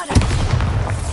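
A booming Bombarda blast spell from the video game Hogwarts Legacy erupts with a heavy low-end rumble and crackling burst, loud and continuous for about a second.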